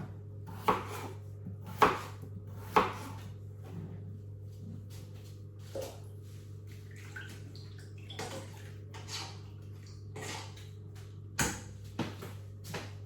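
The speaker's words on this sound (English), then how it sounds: "So we'll chop these up and then put them in the pan." A knife thuds down on a board, chopping food into chunky pieces in a home kitchen: a few sharp, uneven chops, quieter taps in between, and a steady low hum underneath, with no talking.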